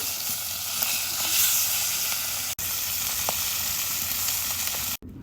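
Flipped fish frying in oil in a wok, giving a continuous close sizzle and hiss with two brief dropouts.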